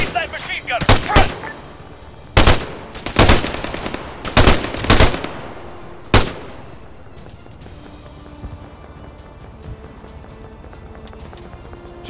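Machine gun fire in the ARMA III video game: several loud, sharp bursts crack out in a ragged sequence over the first six seconds, then give way to quieter background battle noise with a voice speaking.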